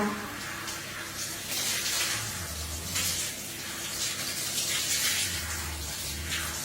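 Water runs and splashes steadily as a mother washes her young child in a bath, a continuous close gush with small sloshes, while voices speak quietly underneath.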